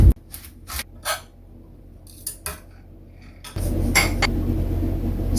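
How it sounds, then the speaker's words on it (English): A quarter of an onion is sliced for guacamole, a handful of sharp knife clicks against a board spaced irregularly, followed by a louder stretch of denser chopping and handling noise near the end. "Slice a quarter of an onion."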